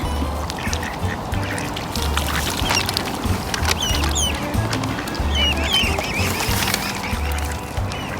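Ducks quack repeatedly nearby, with higher peeps from ducklings scattered through, over a steady outdoor background of water and rustling.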